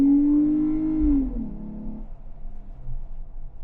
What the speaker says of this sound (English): we're going to do a quick acceleration in this Jeep